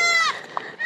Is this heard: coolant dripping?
no